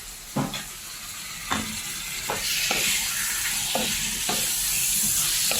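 Chicken sautéing in a hot pan, a close, growing sizzle broken by repeated knocks and scrapes of a utensil stirring at irregular intervals, the frying hiss swelling and staying loud, no speech.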